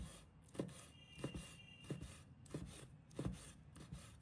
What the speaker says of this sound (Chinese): 准备几个泡椒，把它切成小段